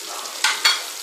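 Fish deep frying in a pan gives a steady, loud hiss of bubbling oil, with two brief brighter bursts of sizzle as pieces are moved, no talking.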